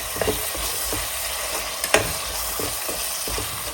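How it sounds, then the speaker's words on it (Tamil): Tomatoes sautéing in a pan with ginger garlic paste for Chettinad chicken gravy: steady sizzling with a few scraping stirs of a spoon, close up and without speech. "இப்போ தக்காளி சேர்த்துக்கிறேன். தக்காளி பழம் தக்காளி சேர்த்துட்டு அப்படியே தக்காளி வதங்கணும்."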